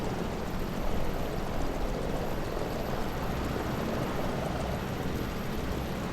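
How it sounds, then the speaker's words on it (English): Radial engine of a Wilga airplane in MS Flight Simulator 2024, a steady dense drone with a continuous roar that stays even throughout, heard alone without talking. "This is a radio engine this airplane has."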